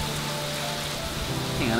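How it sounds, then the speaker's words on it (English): Heavy rain pours down in Florida, a steady, loud broadband hiss of drops hitting surfaces with no gaps, close and continuous throughout. "then it started raining"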